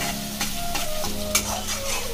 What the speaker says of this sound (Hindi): अभी यहाँ पे मिर्ची डालेंगे जो कि मैंने पहले से काट के रखा हुआ था। अभी इसको अच्छी तरह से फ्राई करेंगे